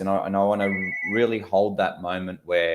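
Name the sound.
telephone ringing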